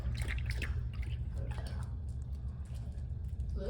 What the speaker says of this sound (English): She's drinking lots of water.